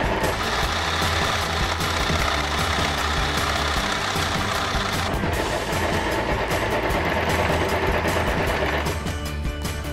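A sewing machine runs steadily, stitching the fabric of a backless crop top along a seam, making a continuous dense mechanical whir with a brief change in pace midway.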